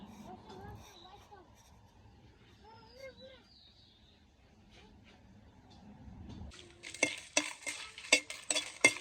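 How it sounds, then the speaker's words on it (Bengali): Dried red chillies fry separately in oil for a sweet-sour mango pickle, a soft stirring and low bubbling giving way in the last seconds to louder, busier crackling sizzle with clinks of a utensil. "এখানে মরিচগুলো তেলে নিই শুকনো মরিচ এখানে আমি শুকনো মরিচ এই করে নিলাম আলাদা আলাদা ভেজে নিলাম"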